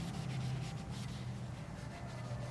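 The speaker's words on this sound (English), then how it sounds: "a lot of like the rusting and staining is kind of coming out with just me rubbing with the brush" A hand brush scrubs rust and stains from a surface with a steady, close, rasping rub that continues without a break.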